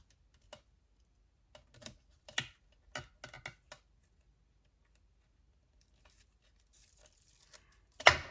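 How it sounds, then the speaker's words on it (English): Tape is torn in short bursts for alcohol ink art: scattered crisp rips and crackles with quiet gaps, close by, ending in a louder, longer tear. "So I like using the tear and tape"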